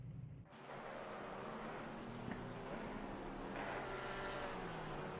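Porsche GT3 race car in Assetto Corsa Competizione on the Paul Ricard circuit, with a sustained loud engine drone that rises in pitch as it pulls hard through the gears.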